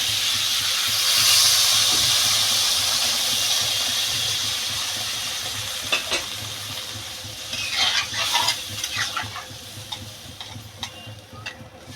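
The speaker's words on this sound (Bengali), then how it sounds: "কষানো হয়ে গেছে আমি এবার পরিমাণ মতো জল দিয়ে দেবো" Water poured into a hot pan of fish and potato curry with beans sets off a broad, steady hiss of steam that slowly fades, followed by a few scraping stirs near the end.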